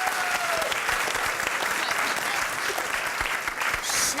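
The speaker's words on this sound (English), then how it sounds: "So that deserves a round of applause." Round of applause from the audience at a college elevator pitch competition, loud continuous clapping from a full room, dense and steady for the whole few seconds.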